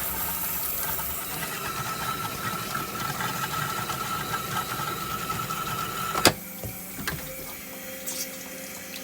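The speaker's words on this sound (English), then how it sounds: "Okay, compressor's back on." An air compressor hums and rumbles steadily while blowing out an RV's water lines for winterizing, with a sharp clack partway through before the droning continues at a slightly lower level.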